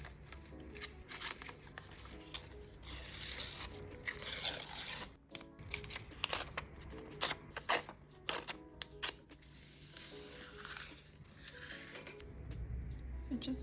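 Paper being torn by hand in a 2026 journal, a run of quick crisp rips and rustling strokes in bursts across the clip, fairly close and steady, with no talking.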